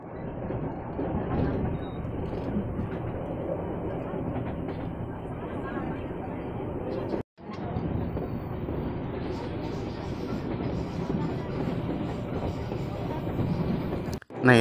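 A KRL commuter train leaves Cisauk station with a continuous rumbling ride noise that is heard steadily throughout, broken by one brief cut midway, with faint voices mixed in.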